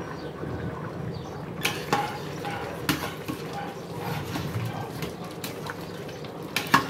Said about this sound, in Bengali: এদিকে আমার খিচুড়ির বলকটা এসে গেছে